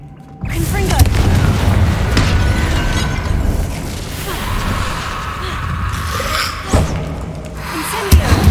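An explosive Confringo spell blast in Hogwarts Legacy, a heavy booming impact with rumbling mechanical clatter and further thuds and slams continuing behind it, loud and close.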